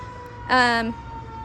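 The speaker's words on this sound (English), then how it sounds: "I was just letting that fire truck go by." A fire truck siren sounds from a garden in a residential neighborhood as the truck passes. One loud, rising wail cuts in and fades within half a second, set over a steady tone and low road rumble.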